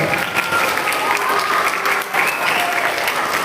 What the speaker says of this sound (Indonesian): Tepukan untuk Senpai Mekles